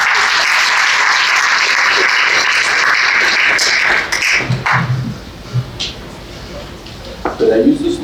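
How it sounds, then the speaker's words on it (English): Loud, dense applause from an audience at a Valentine's Day ball, then tapering off after about four seconds into scattered claps and a few voices. "Give yourself a round of applause."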